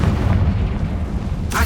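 The Confringo blasting spell in the Hogwarts Legacy video game explodes as a loud, rumbling boom filling the brief moment, followed by a sharp crackling burst at the end.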